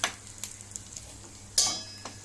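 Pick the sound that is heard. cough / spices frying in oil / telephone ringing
spices frying in oil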